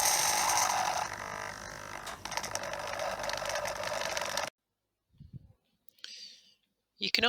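Small servo motors run together at the same moment, giving a loud, steady whirring buzz for about four seconds before cutting off, followed by a few faint clicks and brief mechanical noises.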